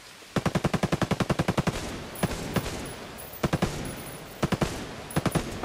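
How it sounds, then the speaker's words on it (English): Machine gun fire in a first-person shooter battle, a long rapid burst of about a dozen shots followed by shorter scattered bursts of three or four rounds over a steady background rumble, with no talking. "Hostiles are shooting."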